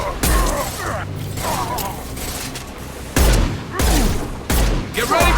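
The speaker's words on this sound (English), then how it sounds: "Firing a high-impact shot." High-impact gunshots in Mass Effect 2, several loud, heavy single shots spaced a second or so apart, each with a sharp attack and a short mechanical tail, over faint background combat.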